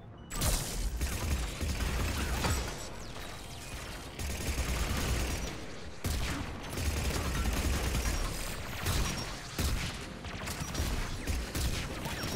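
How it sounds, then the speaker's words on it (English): Many explosions going off in a video game, a dense, continuous rumble of blasts and rapid bursts with a few sharper peaks, loud and unbroken, with no talking. "Oh my god, there's so many explosions."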